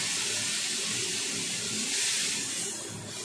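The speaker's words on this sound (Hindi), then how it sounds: "थोड़ा सा पानी डालूंगी नीचे ड्राई हो जाएगा।" Water pours steadily into a cooking pot holding marinated prawns, a continuous close hiss and splash that swells slightly midway and runs for about three seconds with no talk.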